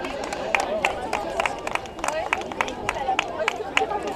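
Crowd clapping for a runner finishing a 30 km road race at Arradon, steady scattered applause with sharp individual claps throughout, amid murmuring spectators.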